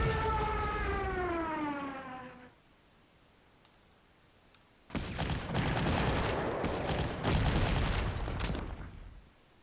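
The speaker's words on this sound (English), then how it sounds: "Let's start bombarding this artillery" Artillery bombardment in the Panzer Corps wargame: a wailing, falling siren tone gives way after a pause to a dense, loud stretch of rapid explosive bursts and crackling fire.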